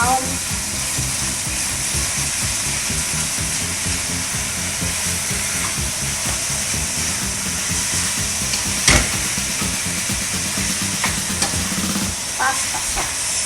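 Ingredients browning in a pan for a healthy pasta sauce, a loud steady sizzle and hiss running continuously with occasional stirring clatters, close up.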